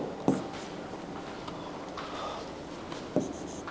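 Pen on paper while notes are jotted down in a Class XII chemistry lesson, a steady soft scratching with a couple of sharper taps, close and quiet, with no talking.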